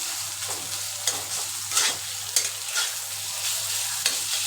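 Shredded chicken meat sizzles steadily in a hot pan as it is fried for a spicy dry fry, with repeated stirring scrapes and a few sharper clinks of the spatula breaking through the continuous hiss.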